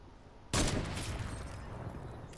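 A heavy sniper rifle fires once in the video game Fortnite, a sudden sharp blast that cuts in after a quiet moment and fades slowly with a long reverberant tail.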